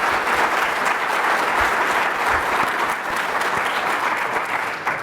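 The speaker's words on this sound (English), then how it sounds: "So how about another round of applause for him?" Sustained, dense audience applause fills a lecture-hall talk on Russia's resurgence, steady and loud throughout with no pauses or voices standing out.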